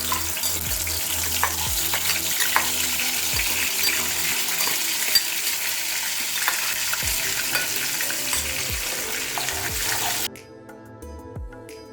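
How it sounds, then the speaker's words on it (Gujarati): Crushed onion frying in oil while being stirred: a loud, continuous sizzle with repeated scraping stir strokes for about ten seconds, then the sound abruptly drops away to near quiet. "હવે આપણે આમાં ક્રશ કરેલ કાંદો તળીશું"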